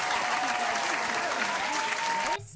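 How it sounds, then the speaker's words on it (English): Crowd applause during a live Disneyland Halloween Time outing, a steady wash of clapping that cuts off abruptly near the end. "Let's give him a round of applause, too"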